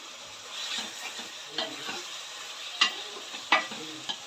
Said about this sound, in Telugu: ఈ అల్లం వెల్లుల్లి పేస్ట్ పచ్చివాసన పోయే వరకు ఒక 2 minutes ఫ్రై చేసుకొని